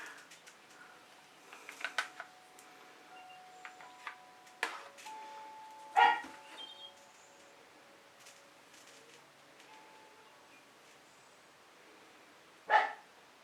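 A dog barks twice in the distance, a single sharp bark followed later by another, over a quiet room with faint ticking sounds.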